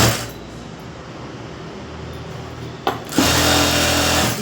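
A sewing machine stitches the lining of a blouse in a continuous mechanical whir that pauses briefly and then resumes louder and nearer, with no voices over it.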